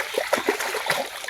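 Water splashes and trickles in a small jungle river, a steady close babbling flow with irregular splatters and no talk.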